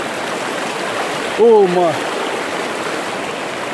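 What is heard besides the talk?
flowing stream water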